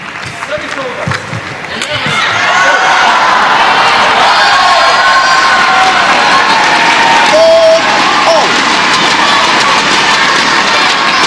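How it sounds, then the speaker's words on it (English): A home crowd cheers at a women's team quarter-final badminton match, Myanmar versus Malaysia, at the SEA Games. The cheering swells after two seconds into a loud, sustained roar of shouts and applause in an indoor arena. "Home crowd doing the best to get behind their player."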